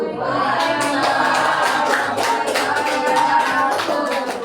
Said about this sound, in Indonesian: Beri tepuk tangan, beri tepuk wow untuk Bu Rina.